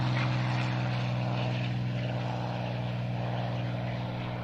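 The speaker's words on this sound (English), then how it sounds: "P-51 Mustang. Listen." A North American P-51 Mustang's piston engine roars steadily at an airshow, a loud continuous propeller drone with a strong low hum that fades slightly over time.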